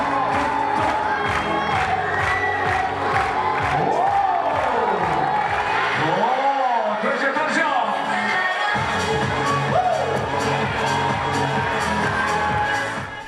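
A large crowd of fans cheers, whoops and shouts continuously at a charity 24-hour climbing marathon, loud and close, with voices rising and falling in waves throughout.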